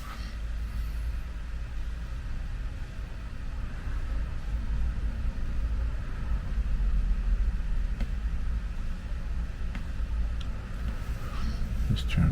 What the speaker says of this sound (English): So you can still hear the traffic.